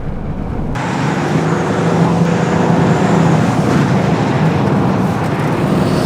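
Volkswagen Touareg V6 TDI diesel SUV accelerating hard with traction control switched off, a steady loud engine and road roar heard from inside the cabin.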